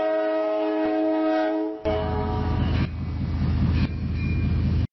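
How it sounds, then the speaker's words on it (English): An AI-generated railroad scene: a ringing crossing signal tone gives way to a heavy train rumbling past, with a brief horn blast near the end, all fairly loud and without speech. "railroad crossing signal followed by a train passing and a blowing horn"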